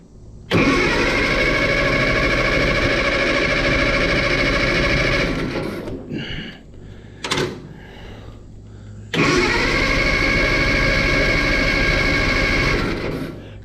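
Engine cranking over and catching, settling into a loud, steady running drone, then cutting off briefly before restarting and running strongly again, close by with no talk.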